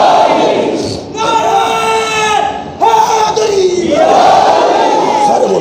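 A large crowd at a religious gathering chants slogans in unison, loud sustained voices rising in repeated call-and-response bursts with brief pauses between lines.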